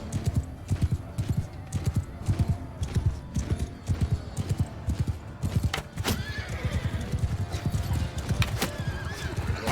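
Cavalry horses charging in Mount and Blade Bannerlord: a dense, continuous rumble of galloping hooves with horses whinnying and neighing over the din.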